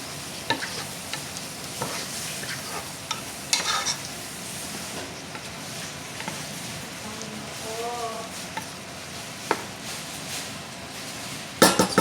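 Pancit bihon rice noodles seasoned with pepper and salt are stirred in a pan, steady frying hiss under scattered scrapes and clacks of the utensil against the pan.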